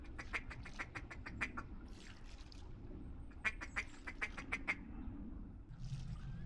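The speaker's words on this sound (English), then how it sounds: "Wood ducks." Wood ducks calling in repeated bursts of sharp squeals and quacks, moderately near, during a North Carolina duck hunt, with quieter gaps and rustling between the volleys.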